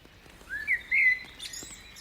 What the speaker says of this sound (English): A loud bird, ever so slightly varying its song, positions itself in the tree right above my head.